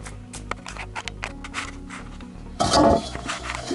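A Toyota Camry SV30 4S-FE radiator cap is set down with a single sharp clatter near the end. Before it comes a stretch of quiet workshop background.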